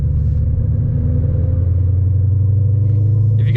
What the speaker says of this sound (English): This car is so loud, but there's a little bit of chatter at the low RPMs.